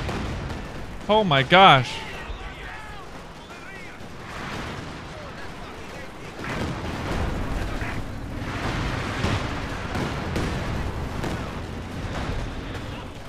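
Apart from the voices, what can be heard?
creeping artillery barrage explosions in a video game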